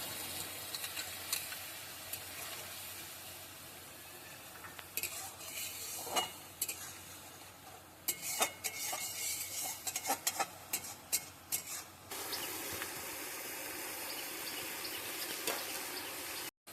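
Green chili paste for potol posto fries and is stirred in a pan, a quiet sizzle under repeated scraping and clinking of a spoon against the metal, growing busier toward the end, with no talking.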